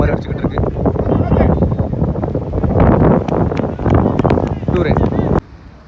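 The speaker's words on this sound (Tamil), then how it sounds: "ஒரு மாதிரி புயல் காற்று மாதிரி அடிச்சுக்கிட்டு இருக்கு." Strong, gusty storm-like wind roars across the microphone at an outdoor 11-a-side cricket tournament match in Karaikudi, a steady loud rush through most of the clip that drops off sharply near the end, with a commentator talking over it.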